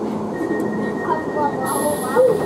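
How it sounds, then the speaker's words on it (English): Interior of a London Underground Piccadilly line train bound for Heathrow, with a steady carriage rumble and hum, a faint high whine, and a brief squeal partway through, under an automated announcement voice. "This is a Piccadilly line service to Heathrow Terminals 1, 2, 3 and 5."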